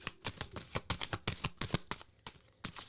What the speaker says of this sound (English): when I tried to shuffle this metaphysical deck, half the deck splits